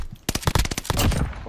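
Rapid automatic gunfire in the Warzone video game, a close, loud burst of about a dozen sharp shots in quick succession, trailing into a rumbling echo.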